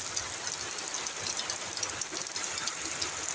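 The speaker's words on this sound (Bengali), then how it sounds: "সারা রাত্রি বৃষ্টি পড়ছে আর কি এখন তো একেবারে জোরেই নামছে" Steady, dense hiss of heavy overnight rain pouring down without a break, loud and close, with no voices.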